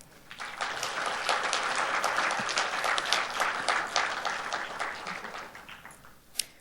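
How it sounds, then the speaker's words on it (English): An audience applauds at a conference opening ceremony after a declaration is adopted: a dense, steady round of clapping from many hands that swells, holds for several seconds, then thins out toward the end. "It would be greatly appreciated if you'd kindly express your congratulations on the adoption of the declaration with another round of applause"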